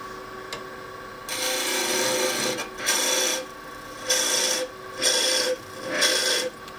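A hand tool rasps against wood while a wooden tenon is shaped: one long stroke followed by four shorter, evenly spaced strokes, close and fairly loud with quiet gaps between, no speech.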